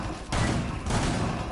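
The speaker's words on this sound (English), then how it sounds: "Can somebody shoot the shotgun and shoot that out?" Two heavy, booming shotgun blasts in the video game Rainbow Six, loud and close, fired about half a second apart.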